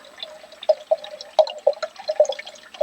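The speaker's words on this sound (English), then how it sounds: "Fresh Lake Huron water, old-fashioned coffee pot." Fresh Lake Huron water runs into an old-fashioned coffee pot at a lakeside camp, a quiet, uneven trickle with irregular splashy drips and no talking.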